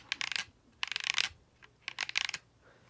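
The analog stick of a PowerA Nintendo Switch GameCube-style controller is moved in close-up, producing several short bursts of dry plastic clicking and scraping with brief pauses between them.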